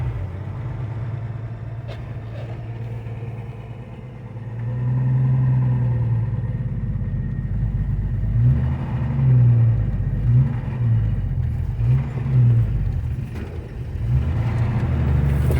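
A 1988 Jeep Wrangler Laredo engine running while driving, a steady low rumble that swells and varies with throttle, near and continuous.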